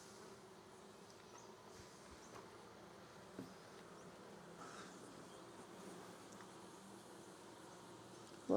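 Honey bees hum steadily around an open hive during an inspection, a dense, even buzz of many insects close by, continuing without pause and with no talk over it.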